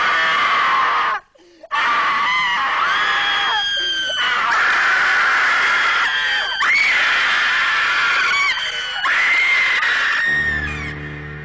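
A cinema audience screams loudly and continuously during a horror film gimmick, a sustained chorus of shrieking voices with a brief drop-out near the start before the yelling resumes and rolls on.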